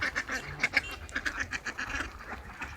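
Campbell ducks on an open-range farm quack in quick, repeated bursts, several birds calling over one another at close range at moderate loudness.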